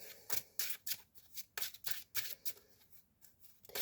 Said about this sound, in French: je vais mélanger mon deck